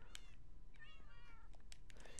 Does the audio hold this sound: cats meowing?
yes